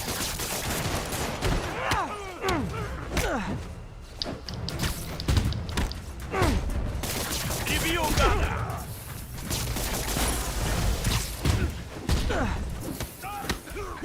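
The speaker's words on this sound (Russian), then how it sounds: "Артиллерия." Repeated artillery blasts and impacts from Marvel's Spider-Man Remastered, booming in a continuous dense barrage of thuds and bursts mixed with game sound effects, with a voice talking over parts of it.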